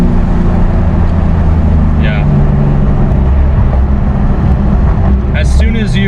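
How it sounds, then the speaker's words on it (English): A 2018 Porsche GT2 RS engine drones steadily from inside the cabin with the windows down. The low rumble is constant, with faint turbo whistles rising near the end, and someone speaks briefly over it. "you can hear the turbos. It sounds really, really good being in this car."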